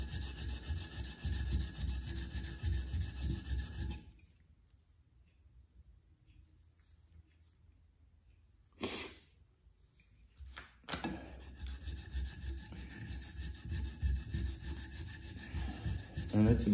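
An old Stanley hand plane sole rubbed flat on 220 grit sandpaper, a steady close rasping scrape for about four seconds, a quiet pause with a brief scrape, then continuous rhythmic sanding again, no talking.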